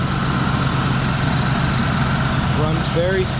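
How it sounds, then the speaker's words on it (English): A 1979 Ford LTD II's 302 V8 idles smoothly under the open hood, a steady, even low rumble close by. Someone briefly talks near the end. "So, here's the 302 engine."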